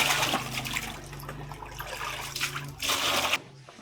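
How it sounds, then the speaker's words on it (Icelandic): A toilet flushing in a restroom at a lunch stop in Laos: a loud rushing, gurgling wash of water that runs for about three seconds before cutting off sharply. "Og bara sturta maður niður bara hérna."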